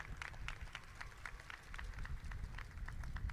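Faint applause from an awards ceremony crowd, a soft continuous patter of many hands clapping at a distance over low room rumble.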